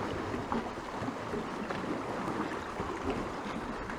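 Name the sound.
waves on Lake Baikal heard from a kayak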